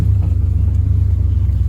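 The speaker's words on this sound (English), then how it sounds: "I shouldn't be driving this truck through here anyways" Truck without mud tires or four-wheel drive driving through an overgrown fence row, a loud steady low engine rumble close up with a faint rhythmic pulse.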